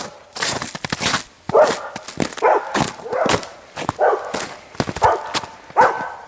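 A dog barks repeatedly on a trail on the Nyman Peninsula, giving loud, close, sharp barks in an uneven rhythm with a few yips mixed in.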